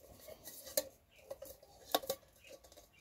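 A lightweight camping cooking pot with silicon handles is handled up close, giving a few sharp metallic clinks and taps spread over quiet, low-level background rustle.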